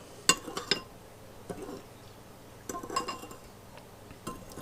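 Sugar stirred into vinegar in a bowl gives a few light clinks and taps of a utensil against the bowl, quiet and close, in short irregular bursts with pauses between them.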